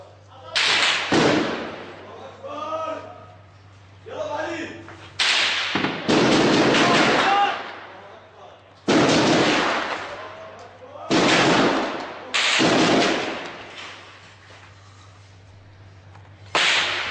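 Heavy gunfire in an urban battle in Aleppo fires from across the way, loud sharp cracks and booms in bursts with echoing tails, while excited voices shout between the shots.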